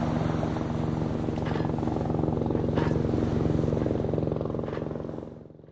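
A cartoon robot turned helicopter flies over a field spraying crops, shown as a continuous close, loud droning rotor and engine whir that holds steady and then fades out at the end.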